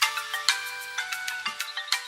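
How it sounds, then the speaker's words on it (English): A phone ringtone plays a bright, tinkling melody of quick repeated electronic notes, clear and close with no talk over it. "That's my ringtone!"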